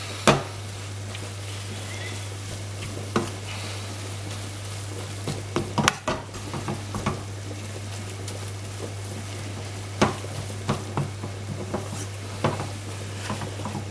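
Carrot is stirred into a sizzling cottage pie filling in a pan, with a steady fry hiss and repeated scraping clacks of the spoon against the pan at irregular intervals, close by and without talk.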